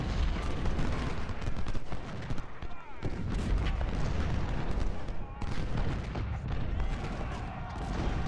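Musket volleys in the Ultimate General: Civil War video game at the Battle of Gettysburg crackle as dense, continuous, loud bursts of gunfire, with rolling booms layered over one another for several seconds.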